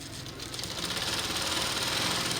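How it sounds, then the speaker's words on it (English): Pedal-operated sewing machine run by a tailor in Nangarhar, Afghanistan, giving a fast, steady mechanical whirr and clatter that builds slightly and holds, fairly quiet, with no voices. "he struggles to pedal his sewing machine because of weakness in his leg"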